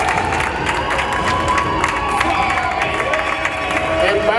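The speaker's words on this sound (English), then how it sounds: "a big hand of applause to Kathy before she comes in" A party crowd applauds and cheers for Kathy, loud continuous clapping blended with whoops, shouts and children's voices, steady and full throughout with talk mixed into the din.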